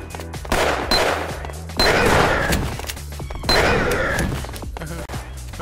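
Video game gunfire in Gunz: bursts of shots come in three loud waves over a dense game soundscape, with thuds and crashes mixed in.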